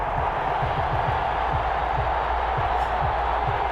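Steady stadium crowd roar from Madden NFL 21 before a Tampa Bay Buccaneers versus Las Vegas Raiders game, a continuous loud wash of cheering and murmur with faint low thumps underneath and no one talking.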